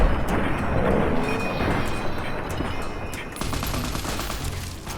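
Loud, dense shotgun fire rings out in Fallout: New Vegas during the Old World Blues content, with blasts overlapping into a near-continuous barrage for the whole stretch.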